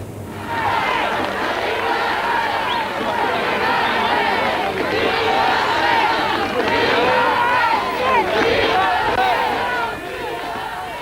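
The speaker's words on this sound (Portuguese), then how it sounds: "De um lado, os aplausos ao rei. Do outro, gritos de contestação" A large crowd greeting King Juan Carlos of Spain during his visit to disaster-hit areas, a dense roar of cheers, shouting and babble with overlapping voices, sustained and loud throughout.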